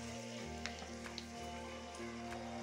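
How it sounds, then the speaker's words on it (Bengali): Bay leaf and dried red chilli sizzle steadily in hot oil for a chicken kofta dish, a continuous crackling fry with faint clicks and a low steady hum beneath, no voices. "তেলটা আগে থেকে গরম আছে, এই তেলে দিয়ে দিচ্ছি তেজপাতা"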